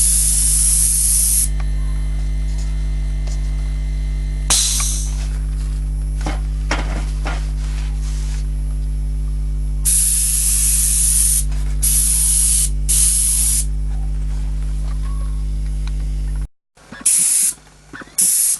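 An airbrush sprays black paint onto the roof of a model railway coach in several loud, steady hissing bursts, broken by short pauses, over a constant low hum. There is no talking.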